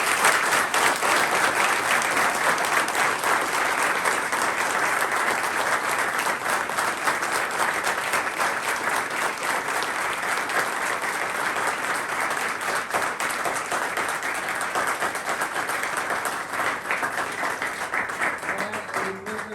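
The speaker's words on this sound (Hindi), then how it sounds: "एक बार जोरदार तालियां दोस्तों" Loud, sustained applause from a gathered group at a sobriety recovery birthday celebration, steady dense clapping filling the whole stretch and easing slightly near the end.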